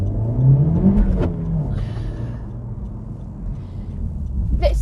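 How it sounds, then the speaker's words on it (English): A Honda Civic FK8 Type R engine revs up briefly with a rising whine, then eases back to a low, rumbling idle nearby. "What do you think of the noise that this car makes both inside and outside the car?"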